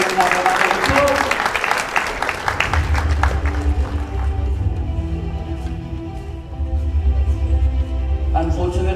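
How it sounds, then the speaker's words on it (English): Audience applause at a provincial football awards ceremony, with dense clapping loudest at the start, easing into a steady wash while a low hum and a few voices carry beneath it. "Let's give them another round of applause"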